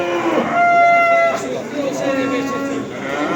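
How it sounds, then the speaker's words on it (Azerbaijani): Calves at a cattle market in Barda, bound for slaughter, low repeatedly, with several overlapping moos close by amid market crowd chatter. "Bax belə kəsimə gedən danalar."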